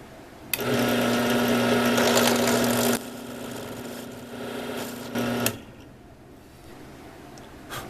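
A lathe countersinks an opening in an aluminum faceplate: a steady motor whine with cutting noise runs about five seconds, drops in level partway through, then stops.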